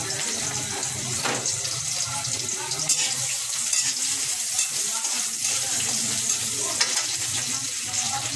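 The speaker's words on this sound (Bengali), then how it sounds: "তেল ছাড়লাম, এখন পেঁয়াজ দিই। পেঁয়াজ ছাড়লাম" Onions frying in hot oil in a pan for a Bangladeshi fish and shrimp dish, a steady close sizzle lasting throughout with occasional stirring scrapes and no talking.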